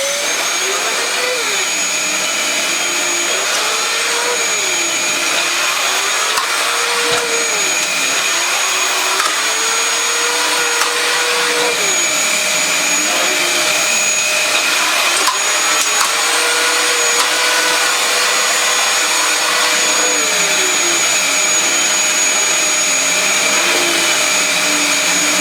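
A refurbished Dyson DC20 Stowaway vacuum cleaner runs on thick pile carpet with a loud, continuous whine, the motor pitch rising and falling as the head is pushed back and forth.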